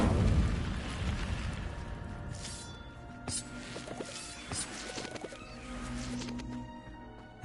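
Incendio fire spell cast in Hogwarts Legacy, a game effect: a loud whooshing burst at the start that tails off, then scattered crackles, pops and clattering impacts over a low rumbling game ambience.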